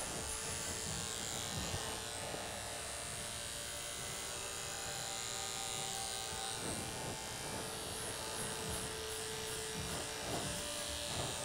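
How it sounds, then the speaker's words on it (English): Electric hair clipper buzzing steadily at close range while cutting a high fade in a barbershop, a continuous drone that runs through the whole stretch, with no talking. "And with this move, it's just the clipper straight up off the parietal."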